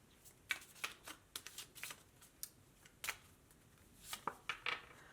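Tarot cards are shuffled close up in quick, irregular bursts of crisp riffling snaps and flutters separated by short pauses, with no talking.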